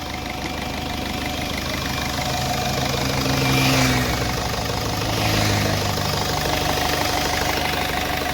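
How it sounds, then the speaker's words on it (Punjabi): A Ford Figo engine idles after repair work for knocking and an oil leak, running with a steady close mechanical hum and faint ticking, swelling slightly twice as revs rise briefly, with no voices. "ਸੁਣ ਸਕਦੇ ਹੋ ਇੰਜਣ ਦਾ ਸਾਊਂਡ।"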